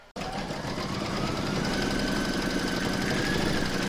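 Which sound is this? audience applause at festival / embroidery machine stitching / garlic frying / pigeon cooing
embroidery machine stitching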